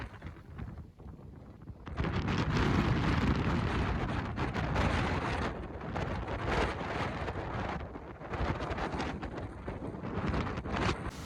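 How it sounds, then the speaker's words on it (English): Loud, roaring wind on a hilltop in Grenada buffets the microphone in heavy gusts, rising sharply after a quieter start and rumbling continuously with no voices. "Oh my God, it's so windy up there."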